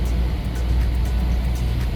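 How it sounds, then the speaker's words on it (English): Road traffic heard from a motorcycle sitting in congestion in Guatemala: a steady, loud, broad rumble of engines and tires with a low drone underneath, continuous and without pauses or voices. "Look at this traffic, man."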